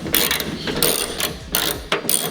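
Ratchet wrench clicking in several short bursts while tightening fasteners on a Mazda 3 trunk LED brake light, close and fairly loud, with no talking.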